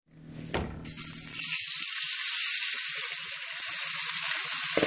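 Steak sizzles loudly in a hot frying pan at breakfast, a steady bright hiss with crackling pops that swells up after a soft opening thump and keeps going without talk.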